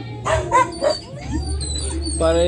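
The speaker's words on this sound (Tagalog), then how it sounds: "pasensya na sa aso guys, maingay." A dog barks and yips a few times in quick succession nearby, followed by whimpering, with a person talking underneath.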